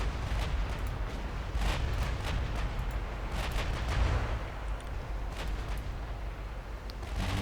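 Distant naval guns firing high-explosive shells in the warship game Ultimate Admiral Dreadnoughts, including 7-inch guns at about 20 km range, rumble as a steady low booming wash with scattered muffled blasts and no clear separate shots.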